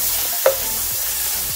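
Garlic frying in a pan for Filipino beef steak, a loud continuous sizzle with one sharp scrape of a utensil against the pan.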